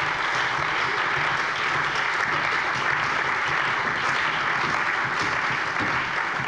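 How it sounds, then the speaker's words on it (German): Members of a parliament plenary session applaud during a debate on same-sex marriage, a steady, dense wash of many hands clapping that fills the chamber evenly at moderate loudness, without speech over it. "Applaus"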